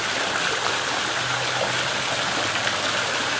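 Pool water streams steadily over the skimmers of a backyard pool being opened for the season, a continuous broadband rush and trickle that stays even and close throughout.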